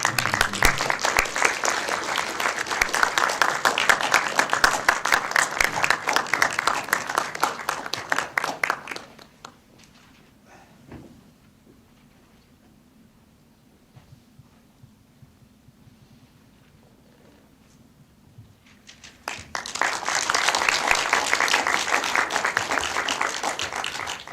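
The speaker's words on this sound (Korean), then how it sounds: "여러분들 큰 박수 주시기" Loud burst of crowd applause that fades into near silence for several seconds, then a second round of clapping swells up again.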